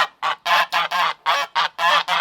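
Repeated loud goose honks in quick succession, about nine harsh calls close by, with no talking.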